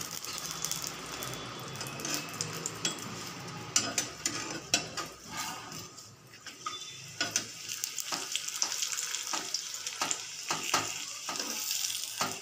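Oil sizzling in a pan while cooking paratha, a steady close crackle and hiss lasting over twelve seconds, punctuated by sharp clicks and scraping taps from utensils; no one speaks.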